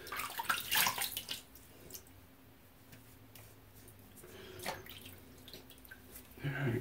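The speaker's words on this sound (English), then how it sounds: "rinse that off" Tap water runs to rinse off a shaving brush, splashing loudly at first, then settling into a quieter trickle with drips before a second gush at the end.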